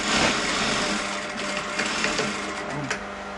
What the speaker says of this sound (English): back stitch it as much as I can